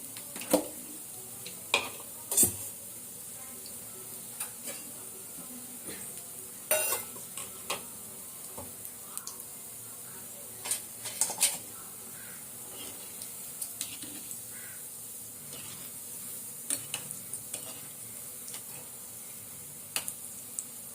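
Vadai fry in a pan with a faint, continuous sizzle. Sporadic sharp clicks and taps from stirring break through the quiet hiss.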